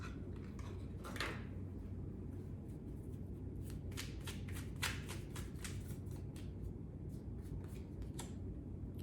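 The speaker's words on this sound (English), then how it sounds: "I'm gonna pull a couple oracle cards." Oracle cards are shuffled by hand in a quiet room, giving repeated soft riffling and flicking bursts close by, faint overall and without talk.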